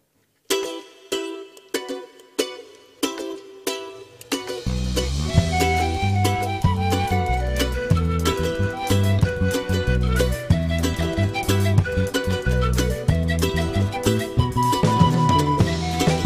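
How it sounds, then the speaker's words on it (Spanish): Ensemble performing the folk song Peregrinos de Rangel live at a municipal cultural centre: a few sparse plucked notes open, then full band with steady bass, percussion and melodic instruments plays loudly and continuously. "en este caso Peregrinos de Rangel, una canción que nos pertenece y suena así."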